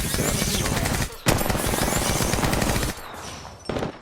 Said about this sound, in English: I've actually started using the devotion recently, and you won't believe how strong this thing is. When you get someone out in the open, when you start firing